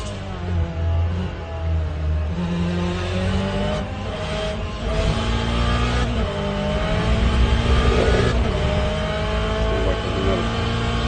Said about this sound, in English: Sounds like there's another car in the pit.